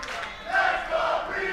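A wrestling crowd at a fight night in Azusa, California cheering and shouting in a sustained roar, with a swell of louder voices midway, heard from within the arena.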